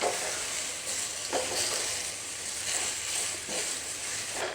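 Chopped tomatoes and fresh coconut fry in a pan for a mutton Chettinad gravy, giving a steady, loud broadband sizzle with faint stirring scrapes and no voices.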